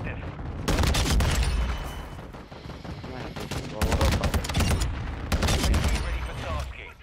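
Sustained automatic gunfire in Modern Warfare II as players shoot down a killstreak, with dense rapid bursts in three loud waves and brief lulls between them, close and heavy.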